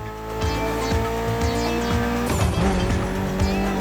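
A Mitsubishi Lancer Evo in The Crew Motorfest gymkhana driving revs hard with repeated tire squeals and skids, the engine note rising and falling through quick shifts, loud and close.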